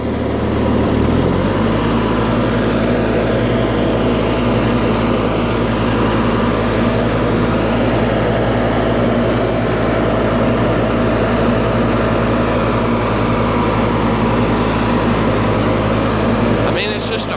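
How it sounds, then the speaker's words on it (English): A Simplicity 5216 hydrostatic riding lawn tractor's 16hp Briggs and Stratton engine starts and settles into a loud, steady drone close by, running continuously without a break. "Proper lawn tractor."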